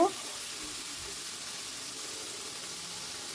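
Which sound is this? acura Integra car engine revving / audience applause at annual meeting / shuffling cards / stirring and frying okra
stirring and frying okra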